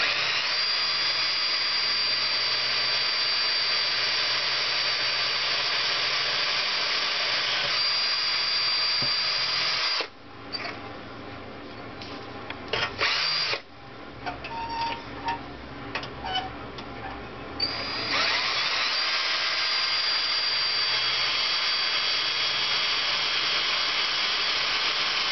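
A steady, high whine of a power drill boring a 6.5 mm hole in hard chrome-plated metal runs throughout, briefly dropping out in the middle with a few scraping, ticking sounds before the drilling resumes.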